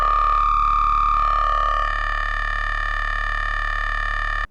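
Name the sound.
synthesizer sound with heavy resonance and oscillator B sync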